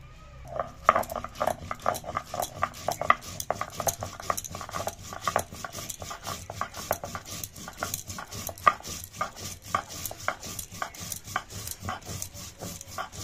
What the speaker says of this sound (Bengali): এইবারে জিরে আর ধনে একসঙ্গে বেটে নেব।